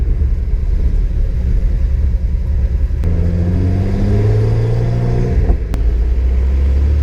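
A 1974 Datsun 260Z engine hums steadily while driving, a low continuous rumble that swells into rising revs midway before settling back to a steady drone.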